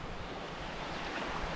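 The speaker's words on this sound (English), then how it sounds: "Nice little waterfall area." Rushing water from a small waterfall along a trail, a steady broadband wash with no pauses, fairly loud and close.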